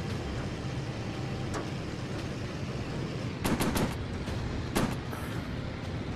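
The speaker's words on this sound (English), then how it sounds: "we're sticking with machine guns then" Machine gun fire from a warplane in a VR flight combat game, heard as short rapid bursts, two of them louder and close, over a constant engine drone.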